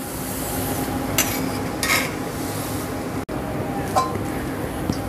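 Chicken frying for pickle in a deep pan gives a steady low sizzle. A utensil stirs it with intermittent scraping and clinking strokes, and a brief dropout comes midway.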